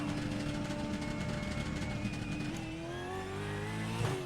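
Supercar race car in iRacing at Detroit's Belle Isle street circuit, its engine revving hard and climbing through the gears with a rising whine, loud and close, with no talking.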